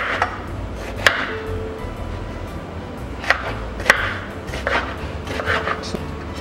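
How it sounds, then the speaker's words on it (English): Knife chopping peeled eggplant (garden egg) on a board for a Nigerian stew, giving a few sharp, irregular near thwacks over a low kitchen background hum. "I will be chopping up my eggplant."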